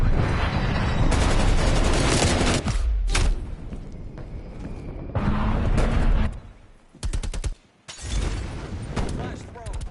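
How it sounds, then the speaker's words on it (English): Incoming artillery fire in Call of Duty Cold War: loud, dense bursts of explosions and gunfire in heavy clusters, broken by short lulls, with game voices speaking between the blasts. "Incoming artillery."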